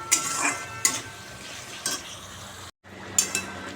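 Spices frying in a pan for Bengali fish curry, a low sizzle under a few distinct metal spoon scrapes and clinks against the pot, close by, with a brief gap of silence near the end and no speech.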